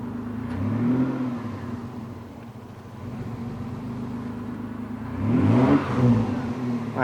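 Mitsubishi Shogun engine running on LPG gas, a steady mid-pitched idle hum with a brief rise in revs toward the end, heard up close without talk.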